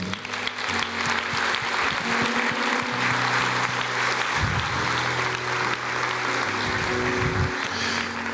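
A church congregation claps during a Portuguese-language worship service, sustained loud applause with a steady hum and tones running underneath throughout.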